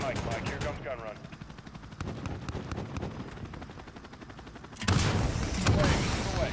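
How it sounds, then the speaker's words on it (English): Helicopter gun run in Call of Duty: Modern Warfare, heavy rapid automatic gunfire rattling in fast bursts, loud and close, with a louder barrage near the end amid game combat noise. "Mike, here comes gun run."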